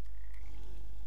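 A frog croaks in the video game Papo & Yo, one short sustained call with a low droning base, heard alone without talk.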